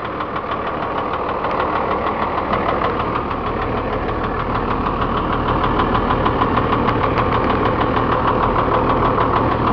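A Utilimaster 14 ft FedEx step van's diesel engine idles steadily and loudly, a continuous knocking rumble with a fine rapid clatter and no other sound throughout.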